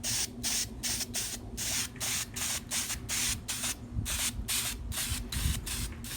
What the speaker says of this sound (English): you can use your spray can right to the end